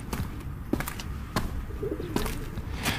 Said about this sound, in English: And pet birds, which are quite popular here.